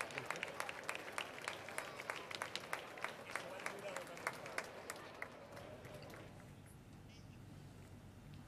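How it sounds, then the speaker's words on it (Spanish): Crowd at an event in Jerez gives hearty applause, fairly distant and faint, with quick rhythmic claps under a speaker's voice that fade toward the end. "un aplauso fuerte para ellos, por favor."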